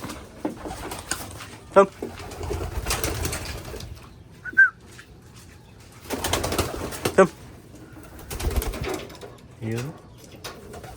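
Racing pigeons in free flight during recall training, with bursts of wing flapping and soft coos close by, while people talk intermittently between the bird sounds.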